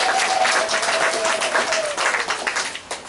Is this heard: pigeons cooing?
no